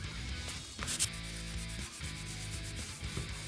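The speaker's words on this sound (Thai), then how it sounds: "ขัดให้เรียบเลยนะครับ" Steady abrasive rubbing of sandpaper over lacquered red wood wall paneling, a continuous scratchy sanding sound with rhythmic strokes, close and moderately loud with no talk.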